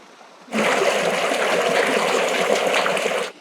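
Floodwater pours through a culvert on a cabin homestead after a historic flood, a steady, loud rushing gush that starts abruptly and holds without a break.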